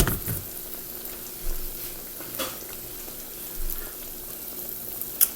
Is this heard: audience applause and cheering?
no